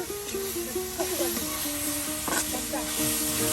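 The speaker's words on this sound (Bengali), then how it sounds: "আপনি এভাবে ভেজে নিলে কিন্তু কেউ বুঝতেই পারবে না যে আসলে এটা কচু" Pieces of dudh kochu taro frying in a pan over a village cooking fire, with a continuous bright sizzle and occasional stirring scrapes, while someone talks over it throughout.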